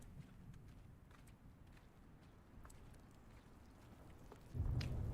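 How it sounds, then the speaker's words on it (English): Faint steady rainfall patters in Stanley Parable Ultra Deluxe, a quiet wash with occasional drops, swelling into a louder low rumble near the end. "Oh, the rain."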